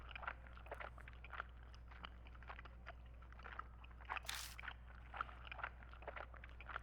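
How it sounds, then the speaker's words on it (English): Gum being chewed on the far end of a phone line in a horror video game, with soft, wet, irregular chewing and mouth clicks repeating quietly over a steady low hum. "I hear a noise like someone chewing gum from the other end of the phone."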